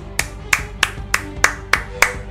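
A single person claps about seven times at a steady, even pace, crisp and close, with no crowd applause.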